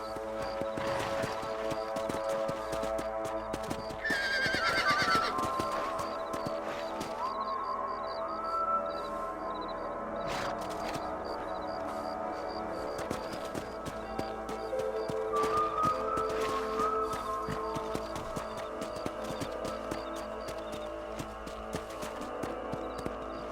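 A horse in the Red Dead Redemption video game, rhythmic clip-clop hoofbeats running throughout with a whinny rising over the steady background score.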